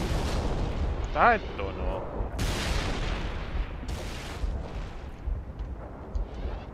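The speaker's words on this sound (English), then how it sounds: "Those explosions." Deep booming explosions and gunfire rumble through the Halo: Reach game soundscape, with a person talking briefly over the blasts.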